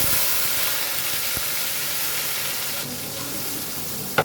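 Ground spices, green chili paste, turmeric, coriander and cumin paste, hit hot oil in a wok while young jackfruit curry is being cooked, giving a loud, steady, broad sizzle and hiss that runs unbroken throughout.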